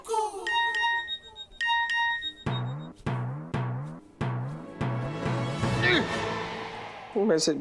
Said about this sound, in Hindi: मैसेज आया है।